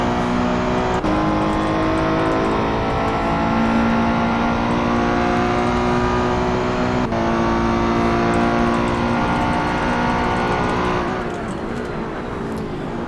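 Race car in a CMRSC Endurance Championship qualifying session at the United States Grand Prix circuit, accelerating hard out of a corner with loud, rising engine tones through gear shifts, then easing off near the end.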